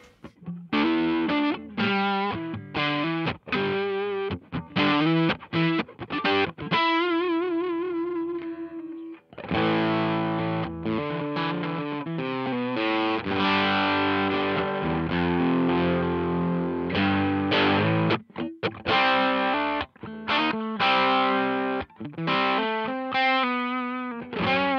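Electric guitar played through a Mozztronics EX-1 Expandrive overdrive pedal at low gain, giving a mildly crunchy, compressed tone across a continuous run of chords and single-note phrases, close and without talking.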